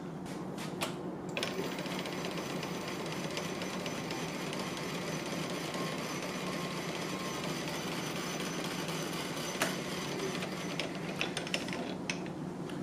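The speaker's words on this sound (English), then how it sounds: "So now as we turn the lathe on, we're going to see if there's any drift." A woodworking lathe runs steadily in a workshop, a continuous mechanical whir with faint rattling and clicking throughout, moderately close with no talk.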